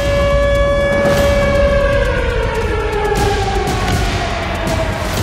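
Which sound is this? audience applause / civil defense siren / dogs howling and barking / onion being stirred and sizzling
civil defense siren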